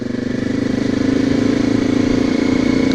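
Motorcycle coasting slowly with the clutch pulled in, engine running at a steady low idle-like drone with a faint mechanical patter, close and continuous throughout.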